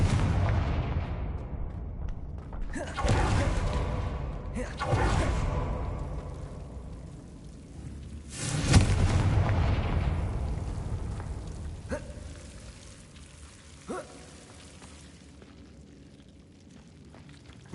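Confringo fire spells exploding in the game Hogwarts Legacy: several loud blasts with long rumbling, crackling tails, spaced a few seconds apart, followed by quieter scattered impacts as the noise fades.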